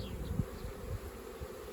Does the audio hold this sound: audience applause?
no